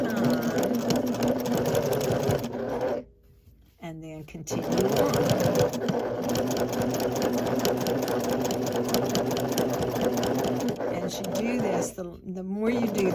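A sewing machine runs almost continuously close by while stitching a mini zipper pouch. The steady mechanical whir stops briefly twice, and a person talks over it throughout.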